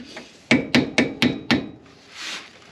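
A hammer strikes a brake part on a 1970 Dodge Dart Swinger 340 in a tight space between cars, five sharp metallic taps in quick even succession, close and fairly loud, followed by a soft scraping rub.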